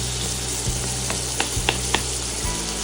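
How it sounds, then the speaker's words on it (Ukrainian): Onion frying with pork cracklings in oil and butter in a pan, a close, steady sizzle with soft low knocks and a few quick clicks from stirring. "Добавили цибульку і жаримо шкварочками щоб цибулька була така, як шкорочки."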